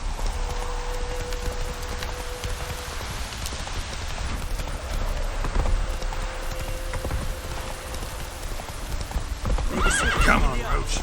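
Roach, a horse in The Witcher 3: Wild Hunt, gallops with rapid, steady hoofbeats and snorts alongside a whinny, over rain and ambient game sound, and a voice talks throughout.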